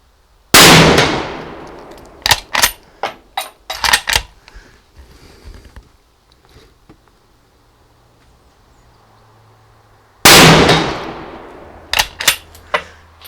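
A MAS 36 bolt-action rifle firing vintage ammunition outdoors: two loud close shots several seconds apart, each followed by a burst of metallic clanks and clicks from the bolt being worked.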